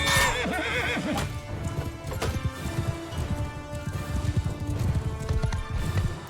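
Horses gallop with steady clip-clop hoofbeats and loud whinnies in the Mount and Blade Bannerlord video game, the neighing sharp at the start over a dense, continuous rumble of running hooves.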